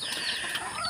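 A chicken clucks nearby, a couple of quick close calls.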